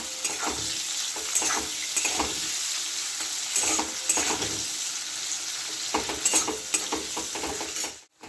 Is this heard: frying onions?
yes